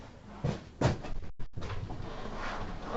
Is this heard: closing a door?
yes